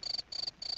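Crickets chirping in three short, evenly spaced bursts of rapid trilling, fairly quiet and alone with no other sound.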